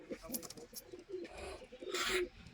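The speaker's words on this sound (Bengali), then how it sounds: "এটা একটা মাদা পায়রা" A Madrush pigeon coos softly a few times at a Kolkata pigeon seller's, the low murmuring calls faint and fairly close against a quiet background with light stirring noises.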